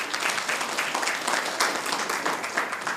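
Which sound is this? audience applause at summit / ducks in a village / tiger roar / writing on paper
audience applause at summit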